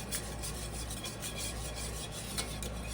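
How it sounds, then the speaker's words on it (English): Cheese being whisked into a sauce, a quick rhythmic scraping and rubbing of the whisk against the pan, fairly soft and steady with no speech. "we're just going to put a little bit of that cheese in there and keep whisking"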